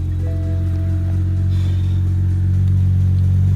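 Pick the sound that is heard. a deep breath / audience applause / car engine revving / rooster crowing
car engine revving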